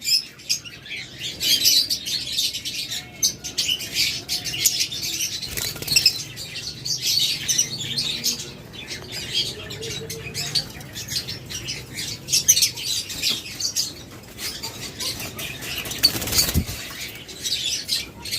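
Lovebirds, including violet opaline and opaline pairs in a sale aviary, chirp and squawk near and far while wings flap in short bursts, a busy, continuous chatter with occasional louder calls.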